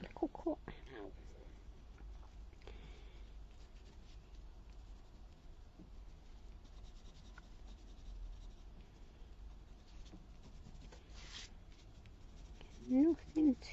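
Pens colouring in a kraft card make faint, intermittent scratchy strokes, quiet and close, with a person talking softly over the top.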